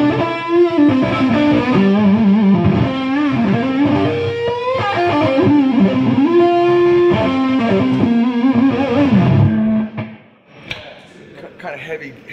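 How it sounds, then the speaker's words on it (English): Electric guitar through a standard distortion tone on a guitarist's 2022 stage rig, played loud as a sustained melodic line with bends and held notes, then stopping abruptly into quiet pickup noise and handling sounds. "this is just a regular kind of normal distortion"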